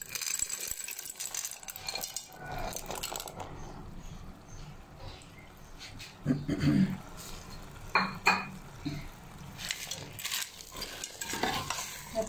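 Frozen peas tipped into ready masala in a cooking pot, giving a few sharp clattering rattles and a brief sizzle over steady stirring and scraping noise, fairly close, with a voice speaking only briefly.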